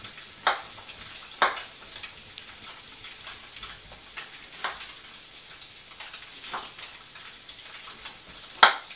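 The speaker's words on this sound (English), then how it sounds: "we're going to use that same pan and saute this with a little salt, pepper, EVOO" Tofu and spaghetti sauté in a pan with olive oil, salt and pepper, giving a soft ongoing sizzle with occasional sharp pops and stirring scrapes, close by.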